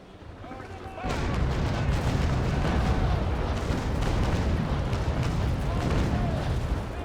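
Ship cannons fire in the naval combat game Naval Action, a heavy continuous rumble of booming broadsides starting abruptly after a second and rolling on loudly without pause.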